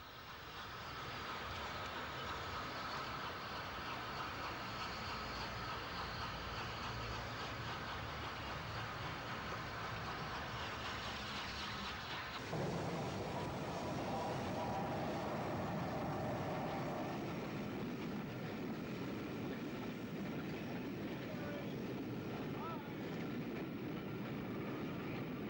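A Bulleid Light Pacific steam locomotive runs through a Southern main line railway scene near Waterloo, with a steady, loud rumble of the train and carriages rolling past throughout, the pitch and texture shifting midway as the train moves on.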